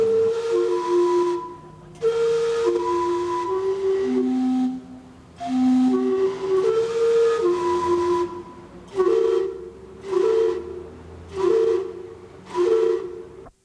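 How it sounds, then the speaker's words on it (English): The Gastown steam clock in Vancouver whistles a tune: a series of loud, breathy steam-whistle notes in separate bursts, a longer melodic phrase followed by shorter toots. "one of the famous elements here is the steam clock"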